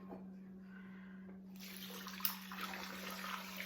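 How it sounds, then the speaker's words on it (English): Tap water runs into a pot of bones for bone broth, a steady broadband rush that starts partway in and continues loud and close, with a constant low hum underneath. "So we're gonna start filling it up with water here."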